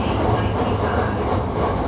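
A Hankyu 1300 series commuter train car with an abnormal running noise, riding from Tengachaya toward Kita-Senri, roars steadily from inside with a dense rumble and continuous wheel-and-track noise throughout.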